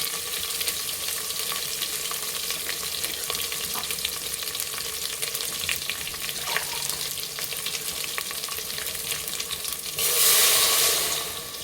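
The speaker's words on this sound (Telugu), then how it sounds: "ఇంకా ఇప్పుడు మనం వాటర్ అనేది యాడ్ చేసుకుందాం" Ginger garlic paste fries in a pot with a continuous dense sizzle and crackle, then water poured in near the end brings a short louder hissing rush.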